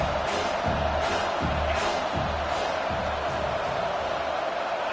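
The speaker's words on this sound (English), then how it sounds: "Man, this crowd really affecting the football." A home crowd at a football game roars steadily and loudly, a dense wall of cheering and whooping with pulsing low thumps beneath it.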